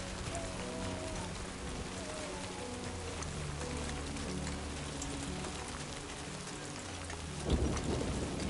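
Heavy rain and rolling thunder in the Death Stranding 2 video game, a dense continuous downpour with low rumbles underneath, closing on a sharper, louder thunder crack.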